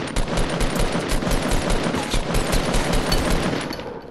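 Rapid automatic gunfire rattles in a loud, dense, continuous burst in the game Fortnite as shots hit an enemy, the sharp reports packed tightly together throughout.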